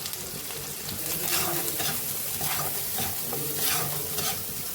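Spices with turmeric, salt and chilli powder are stir-fried for khichuri, a close, loud sizzle with repeated rhythmic stirring swipes through the pan.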